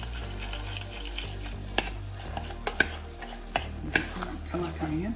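Tomato puree cooks in a pan for a vegan lasagne ragu, a soft low sizzle under sharp clicks and scrapes of a utensil stirring against the pan, with no talk.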